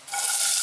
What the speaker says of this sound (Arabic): نقلي البصيله تاعي، ندير لها شويه ملح